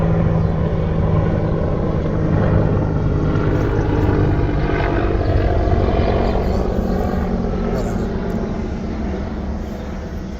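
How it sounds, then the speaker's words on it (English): A helicopter drones past with a steady, low rotor thrum, loud and sustained, easing slightly toward the end; no one speaks. "Figures a helicopter would go by right now."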